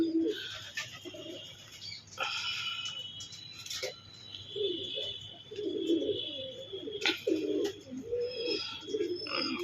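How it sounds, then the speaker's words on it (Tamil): Pigeons in a loft coo in low, rolling phrases that recur throughout, fairly close but moderate in level, with some sharper chirps and background clatter in between. "வெளியிலையும் புறா இருக்குது."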